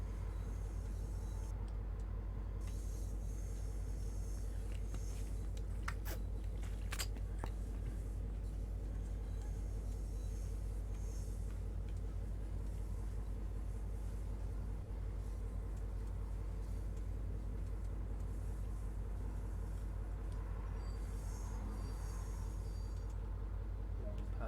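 An Amtrak train slows toward a stop in the Train Sim World game, a steady heavy low rumble from the cab with faint clicks and a brief hiss of brakes, no talking.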